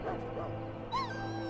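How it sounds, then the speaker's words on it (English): Dog from the Dragon Age Origins video game whimpers softly, then gives a short yip, with a steady game soundtrack drone beneath. "Dog looks up at you respectfully, backing down from his aggressive stance."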